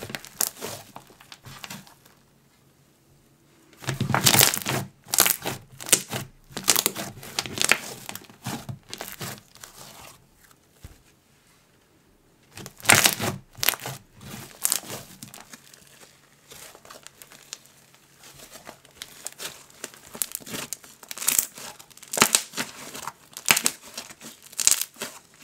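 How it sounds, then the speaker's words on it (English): Oreo-scented slime with a cereal-milk texture is squished by hand in bursts of wet crinkling and crackling, close and fairly loud, separated by quiet pauses. "This Oreo scent is just amazing, and I could just squish this slime all day."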